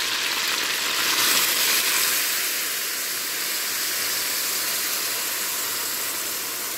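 Rice wine hits a hot pan of Taiwanese-style adobo with a steady, loud sizzling hiss that swells briefly near the start and then holds evenly, close up with no talking.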